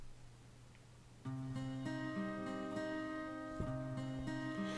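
Quiet synth-like notes played on sampler pads form a looping broken-chord pattern, starting after a brief hum and continuing steadily at low volume.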